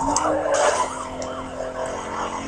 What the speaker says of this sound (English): Go away, police cars!